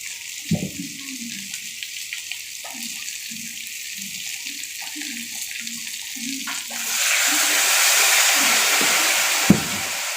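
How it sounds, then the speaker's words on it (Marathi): Water is poured into leftover ground powder for a home-style masala ridge gourd dish, starting as a steady, close rushing splash after several seconds of soft kitchen knocks and clatter. "त्याच्यामध्ये आपण पाणी घालून टाकूया थोडंसं"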